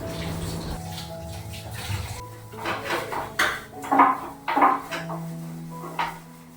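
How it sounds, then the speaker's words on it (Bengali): Greasy gas stove top being scrubbed by hand with dishwashing soap, giving irregular close rubbing and clattering bursts that build through the middle and taper off. "ওভেনের ওপর অনেকটা তেল পড়েছিল তো সেগুলো আমি সাবান দিয়ে ওই বাসন মাজার সাবানটা দিয়েই প্রথমে ভালো করে মেজে নিচ্ছি"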